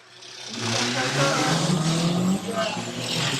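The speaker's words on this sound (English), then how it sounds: "we're racing once again for the second time in this 4th race in the junior rods" Junior rods stock car race with drivers aged 10 to 16: a loud, steady roar of several engines on the track, with rising and falling revs and tyre noise, under a commentator talking throughout.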